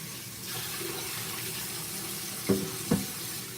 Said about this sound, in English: I go ahead and I give my potatoes just another quick rinse.